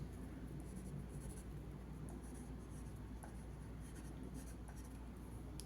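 Pencil sketching a human figure on paper: a steady, continuous dry scratching that stays close and even throughout, set against a constant low hum, with no talking.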